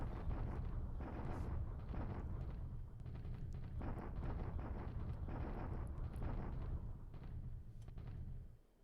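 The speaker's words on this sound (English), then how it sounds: "I wish we can get through these bombardments faster" Bombardment in the War in the Pacific strategy game, a faint continuous rumble of repeated booms and blasts rolling on without pause.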